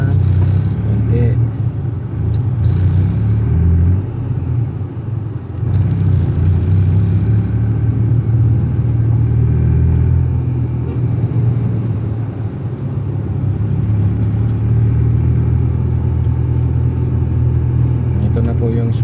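Steady road traffic at a busy intersection in Zambales, with a continuous low engine rumble and passing cars close by while a voice talks over it throughout.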